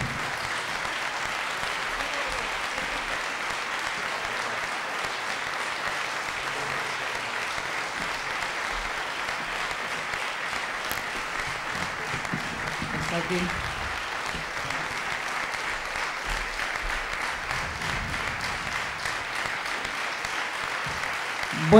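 A standing crowd at a rally against the criminalization of protest gives Elena, Alfon's mother, long, sustained applause, a loud, even roar of many hands that keeps going without a break.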